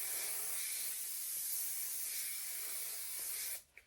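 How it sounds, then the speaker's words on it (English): Hairspray sprays onto hair in one long steady hiss of about three and a half seconds, loud and close, then cuts off into near silence. "first you want to put some hairspray"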